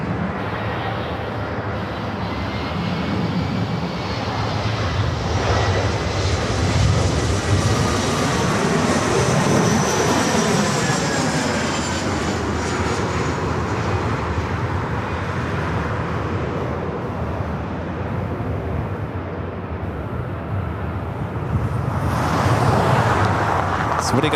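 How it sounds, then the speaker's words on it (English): A United Express SkyWest E-Jet lands on runway 24 right at LAX, a loud, steady roar of jet engines and rushing air lasting over twenty seconds, heard close by with constant outdoor background noise. "Second United Express SkyWest E-Jet. Now short funnel for 24 right."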